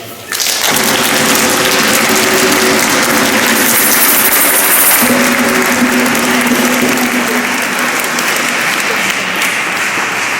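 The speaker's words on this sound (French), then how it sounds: "Nous applaudissons." A church congregation at a Sunday Mass breaks into loud, sustained applause that starts abruptly and continues steadily over a low held tone, with no voices.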